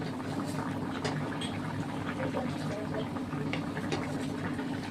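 A pot of hilsa fish curry with potatoes bubbles at a steady simmer, a continuous close burbling with small pops, while a voice talks over it.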